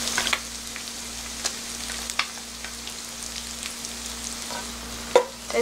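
Makchang beef intestines frying in an ordinary frying pan, a steady close sizzle with crackles and small pops throughout, one sharper spatter near the end, no voices.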